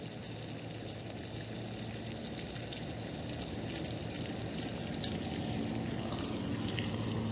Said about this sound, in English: Cooking good in the butter.